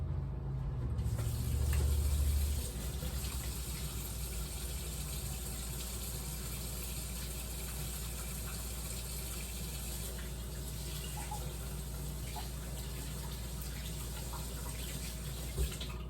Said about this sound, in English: I'm gonna wash my hands really quick